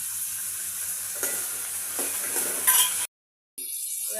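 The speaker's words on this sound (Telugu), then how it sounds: "మిరపకాయలు సగం గోలినాక ఎల్లిపాయలు వేసుకోవాలి" Green chillies and garlic fry in hot oil, giving a continuous close sizzle with a few scraping stirs, then a brief silent gap before the sizzling resumes.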